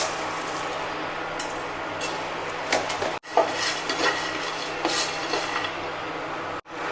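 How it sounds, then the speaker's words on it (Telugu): Peanuts and coriander seeds roasting in a metal pan, with steady scraping, rattling and clinking of utensil against pan and two sharp knocks. "ముందుగా పల్లీల్ని వేడి చేద్దాము. ఇంకా ఇందులోనే ధనియాలు కొంచెం వేద్దాము."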